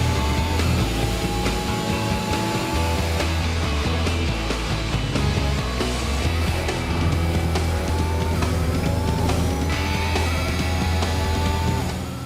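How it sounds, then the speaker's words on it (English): A Formula 1 car lapping Silverstone at racing speed, its high engine whine rising and falling through gear changes as it passes, loud and continuous with no talk. "Let's watch the F1 car complete the lap."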